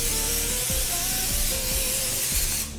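A steady hiss of aerosol cooking spray onto a muffin pan runs for a couple of seconds, close and fairly loud, with some clattering underneath, then cuts off.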